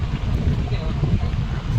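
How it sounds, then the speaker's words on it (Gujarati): Cool wind blowing steadily across the open salt desert of the Little Rann of Kutch, a continuous low rumbling buffet against the microphone. "ઠંડી હવા એકદમ સરસ મજાની આવી રહી છે."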